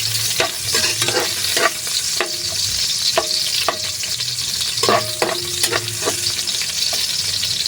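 Onion, garlic and ginger sizzle steadily in hot oil for a long-bean and shrimp coconut dish, with repeated sharp clinks of a utensil stirring against the pan over the constant frying hiss; no one speaks.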